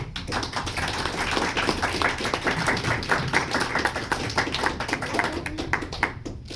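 Applause from the audience at a book presentation for the novel Los días contados, a dense, steady wash of many hands clapping that keeps going for several seconds before it thins out at the end.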